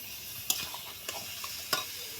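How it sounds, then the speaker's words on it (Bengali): Chicken pieces coated in spices and turmeric stirred in a pan for a country chicken curry, with a few sharp spatula scrapes over a soft, steady frying hiss. "দিয়ে ভালো করে নাড়াচাড়া করে নিই, মশলার সাথে মাখিয়ে নিলাম"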